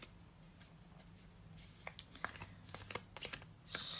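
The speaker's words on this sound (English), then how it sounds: "let's start shuffling with intention" Tarot cards being shuffled by hand at close range, a soft, quiet run of papery riffles and brushing flicks that builds toward a denser burst at the end, with no talk over it.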